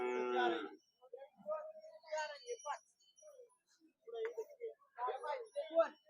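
Young bulls at a livestock market in Kashti, Maharashtra, give a loud, close moo at the start, then someone speaks over quieter market sounds.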